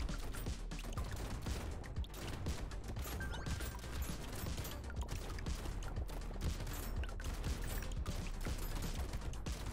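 Shotguns fire constantly in the Brotato video game, with dense, rapid overlapping blasts and mechanical clatter that keep up a loud, unbroken barrage throughout.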